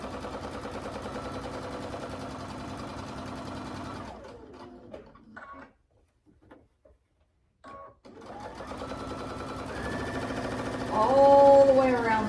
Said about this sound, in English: we're going to take them over to the sewing machine, and we're going to sew a 1/4-inch seam all the way around this entire square